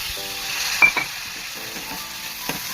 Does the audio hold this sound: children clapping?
no